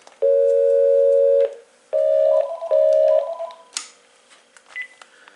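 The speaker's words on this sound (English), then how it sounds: "Testing out the intercom feature on the third handset to the main bass unit." A Panasonic KX-TG5243 cordless phone handset sounds its intercom call tones: a long steady electronic tone, then two shorter warbling tone bursts, followed by a few faint clicks and beeps, close and clear.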